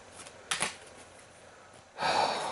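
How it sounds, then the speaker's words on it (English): A deck of board game cards being shuffled for Sentinels of the Multiverse, two brief riffling bursts up close with a quiet pause between them. "I gotta shuffle the environment deck up and see what the heck happens here."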